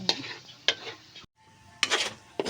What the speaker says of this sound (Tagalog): halo halo halo halo ng latik pangang biko natin yan mamaya ayan halo haluin natin para hindi masunog